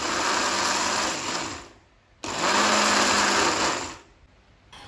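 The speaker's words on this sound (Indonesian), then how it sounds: "Jadi cabai sama tomatnya ini di blender aja sampai benar-benar halus." A kitchen blender purees chili peppers and tomatoes until smooth in two loud whirring bursts, the first running under two seconds and stopping, the second starting abruptly and running about two seconds before winding down, close up with no talk.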